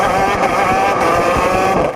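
A racing kart engine roars steadily throughout a standing start, a loud, sustained buzzing drone heard up close from onboard with no pauses.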